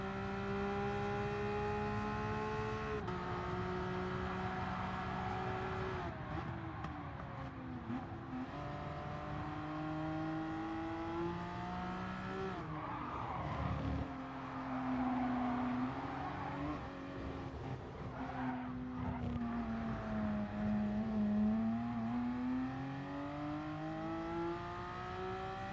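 Race car engines in a racing video game wail steadily with revs rising and dropping through gear shifts, with occasional rival cars whooshing past, continuous and moderately loud.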